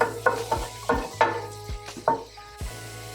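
Shallots sauté in a pan of olive and grapeseed oil for a mushroom risotto, a quiet sizzle under a series of sharp, ringing metal spoon clanks against the pan, roughly eight knocks, with no talking.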